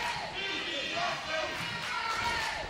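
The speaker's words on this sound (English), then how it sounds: "The crowd cheering on our underdogs here." Crowd cheering at an indie wrestling match between Infrared and Big Dave and Positive Lee, a steady dense roar of voices filling the hall, with a commentator talking over it throughout.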